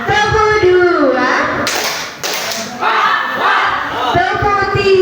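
Group in a training session doing a counted clapping game, with short sharp bursts of synchronized claps in between a leader's spoken counting and group chanting.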